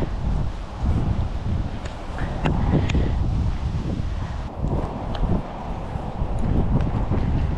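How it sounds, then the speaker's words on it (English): Strong wind buffets the microphone in a constant low roar, with faint rustling throughout and no talking. "Very windy today."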